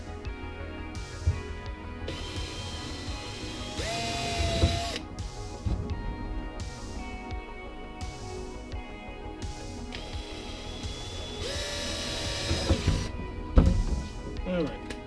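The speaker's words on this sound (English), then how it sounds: "I'm going to start making these holes. Just using a small drill bit to start this." A small power drill with a small bit whines in several short bursts while drilling pilot holes in Lexan for car windows, rising in pitch as it spins up, with quiet pauses and light clatter between bursts.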